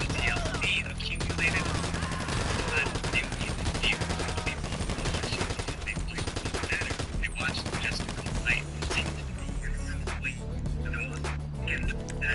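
Rapid gunfire in the video game GTA V, dense bursts of shots rattling continuously over a game soundtrack and effects, loud and sustained, with a player talking over it.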